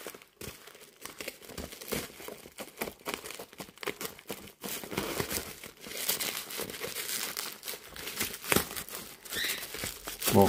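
Plastic and cardboard packaging of a new car reversing camera for a Mustang crinkling and tearing as it is opened up close, a steady run of crackles and rustles with no talking.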